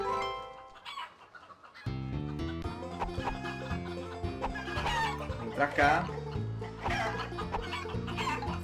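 Chickens clucking in an El Chavo minigame on the Wii, bursts of clucks over upbeat game music, with a person speaking briefly.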